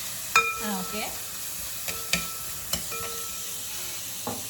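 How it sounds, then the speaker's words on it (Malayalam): A spoon scrapes and taps a pan while breadfruit roasts Kerala style, with a soft steady sizzle beneath a few sporadic clanks and stirs, close and without talking. "നമ്മൾ കുറച്ചും കൂടി ഇളക്കാനുണ്ട്"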